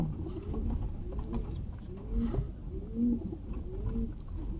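Giribaz pigeons coo softly in repeated low, rolling calls against a quiet background, a few birds close by.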